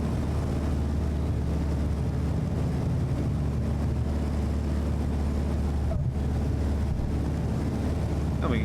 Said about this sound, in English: We're just going to go ahead and get us slowly up to full throttle here.